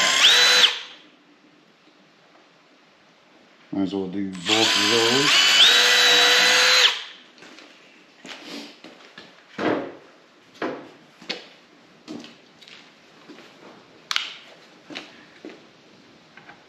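A power drill bores a pilot hole into wood for a decline squat platform, giving one loud whirring burst that rises in pitch, then scattered knocks and taps of handling the workpiece, with brief speech before the drilling.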